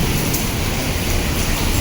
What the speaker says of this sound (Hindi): ये देखो बारिश आ रही है, और ओले भी गिर रहे छोटे छोटे से